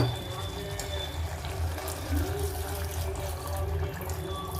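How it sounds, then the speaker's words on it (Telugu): Water pours steadily into a pot of Andhra-style mutton curry, a continuous close splashing rush that lasts several seconds at moderate level. "ఇప్పుడు మనం వాటర్ వేసేసుకున్నామండి."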